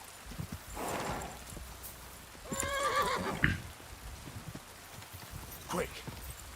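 A horse in the medieval video game Kingdom Come: Deliverance 2 whinnies and neighs in short bursts with hooves clopping, set against soft rain, close and fairly quiet.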